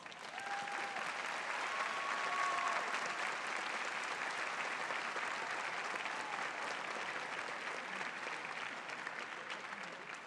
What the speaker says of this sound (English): Let's give everybody a wonderful round of applause.